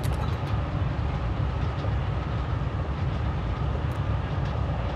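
Steady low rumble and rattle of a train in the Forgotton Anne game, a continuous droning roll with no talking.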